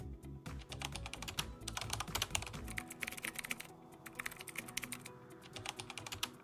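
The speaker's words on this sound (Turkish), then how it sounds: "Klavye ses efekti vereceğim." Rapid clicking of computer keyboard keys, typed in bursts with short pauses, close and crisp.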